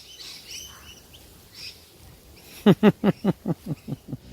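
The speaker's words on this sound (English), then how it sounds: "the cute-looking parrots make a beast of themselves" A series of about nine sharp, raspy bird calls in quick succession follows faint chirps in the distance.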